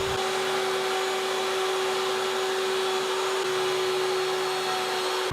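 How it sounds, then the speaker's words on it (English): A power sander runs continuously on a wooden box, giving a loud, steady whine with a constant hum and no pauses throughout. "I'm going to sand it all down now while it's all in one piece."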